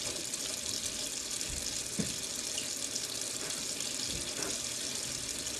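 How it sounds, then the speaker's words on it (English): Water runs steadily from a faucet into a sink as hands are rinsed, a constant moderate hiss with a couple of soft splashes and no talking. "You rinse your hands."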